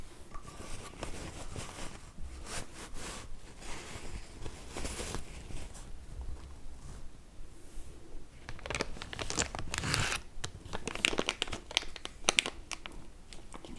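Plastic game storage bags crinkle and rustle close up, handled in irregular bursts of crackling that grow busier and louder toward the end, with no talking.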